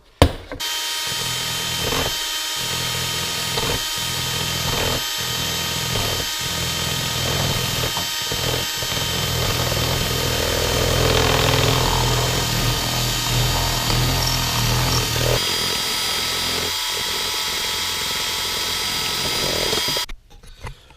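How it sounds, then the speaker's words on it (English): A power tool runs steadily for about twenty seconds, cutting screw holes in a leather flip welding shield, a close, continuous whirring drone with brief dips and restarts near the start and end. "you have to make sure you cut holes for these screw ports like this"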